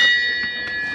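A small hailing bell on a 1957 Chris Craft Corsa wooden boat gives one close, loud, bright ring that rings on with a sustained tone and decays slowly.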